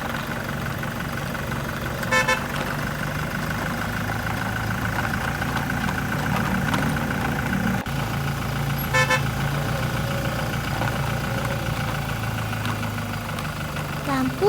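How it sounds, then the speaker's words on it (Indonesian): A diesel truck engine idles steadily in a toy JNT delivery truck scene on a night city street, a constant close drone with two brief horn toots breaking through. "Suara mesin diesel terdengar stabil."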